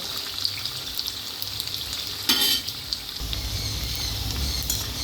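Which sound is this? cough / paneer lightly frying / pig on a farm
paneer lightly frying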